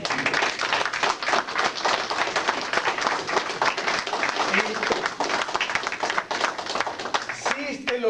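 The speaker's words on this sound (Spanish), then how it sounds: "Denle un aplauso al Señor." A church congregation applauds in a dense, sustained burst of clapping that fills the room, tapering off near the end.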